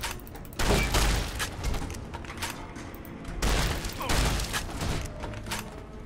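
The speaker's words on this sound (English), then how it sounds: "Alright, let's try a shotgun instead." Shotgun fire in Fallout New Vegas, two loud heavy blast clusters with booming tails, separated by a brief lull, set against constant game background noise.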